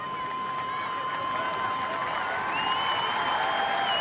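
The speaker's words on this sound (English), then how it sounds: "Warm round of applause" Stadium crowd at an A-League football match between Adelaide United and Macarthur FC applauds warmly, a steady broad wash of clapping and crowd noise, loud and continuous, with faint commentary-like voices woven through.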